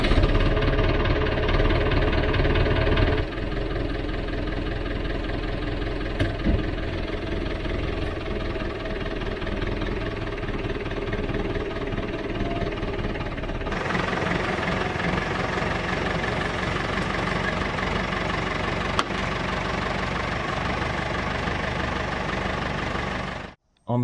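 A homemade tractor engine idles with a steady, low, knocking rumble throughout, shifting slightly in tone partway through before cutting off abruptly at the end.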